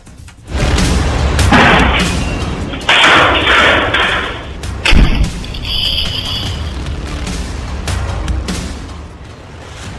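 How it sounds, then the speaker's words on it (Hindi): A loud petrol bomb explosion with booming, thudding impacts amid crowd noise and clatter during an attack in Jharkhand, India, the bursts rising sharply and settling into a busy, roaring background. "हाथों में जलती पेट्रोल की बोतल और जोरदार धमाके की आवाज"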